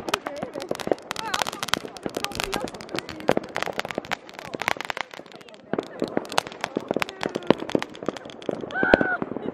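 New Year's fireworks crackle and pop in rapid, dense bursts throughout, with sharp bangs scattered among them and people's voices mixed in.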